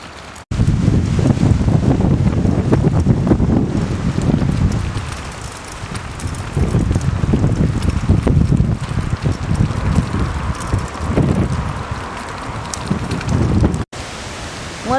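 Strong gusty wind near Avignon buffets the microphone almost continuously, a loud low roaring rumble that swells and eases, with a brief drop near the end.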